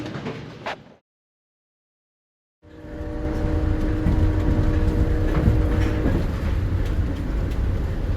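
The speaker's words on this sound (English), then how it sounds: "All right, back on the train," Amtrak Cardinal passenger train riding at night between Charleston, West Virginia and Chicago, a brief rumble, a gap of silence, then a steady loud onboard roar with low hum and rattling clicks.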